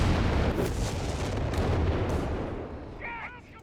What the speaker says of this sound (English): Artillery strikes, they almost got the Starstorm squad there with it